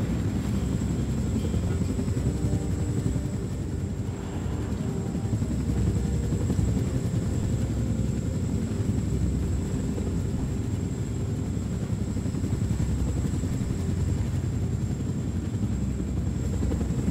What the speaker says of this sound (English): Pick up Caroline, put her in the pilot seat of the last helicopter